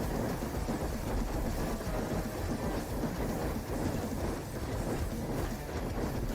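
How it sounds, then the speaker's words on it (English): Pulsing lightning circle attack from a video game, a dense crackling electrical rumble like a storm, sustained and steady at moderate level with slight swells, no talk. "Giant lightning circle that pulses"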